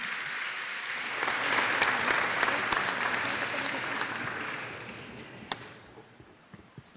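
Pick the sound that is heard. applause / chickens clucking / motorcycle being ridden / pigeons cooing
applause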